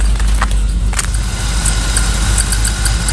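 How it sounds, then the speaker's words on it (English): A 1992 Chevrolet Camaro Z28 engine idles after sitting unused for years, a loud, close, steady low rumble with a lumpy, cam-like lope and a few brief higher clicks early on. "Man, this thing run like it's got a cam in it"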